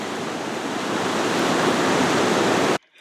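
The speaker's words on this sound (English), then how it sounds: "There's a good flow of water through the two culverts at the bottom of the hill." Creek water flowing strongly through two culverts at the bottom of a hill along an urban cycling trail, a loud, continuous rushing wash that runs alone and then cuts off abruptly.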